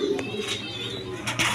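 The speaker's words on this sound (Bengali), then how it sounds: "এক পেয়ার রেসার কবুতর সে দেখেন" A racer pigeon, one of a breeding pair, gives soft low coos close by, with faint rustling and background noise around it.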